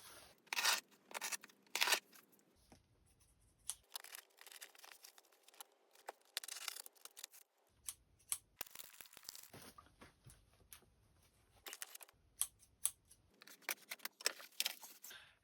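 A taped cardboard package box is cut open, with scattered sharp snips, tearing tape, scraping and crinkling in irregular bursts separated by near-silent pauses.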